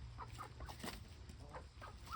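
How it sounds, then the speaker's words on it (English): Faverolles chickens clucking on a homestead, several short faint clucks scattered through a quiet farmyard. "I think these Faverolles are the prettiest chickens on this property"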